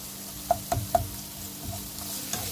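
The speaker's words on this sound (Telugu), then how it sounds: "ఇప్పుడు దీనిలో కాస్తంత అల్లం వెల్లుల్లి ముద్ద వేసేసుకొని వేయించుకుందాం" Ginger garlic paste frying in oil with a low, steady sizzle, with three quick metallic taps of a spoon against the pan near the start and a few softer scrapes after. No voices.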